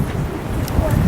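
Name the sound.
wind blowing on a hilltop in Greece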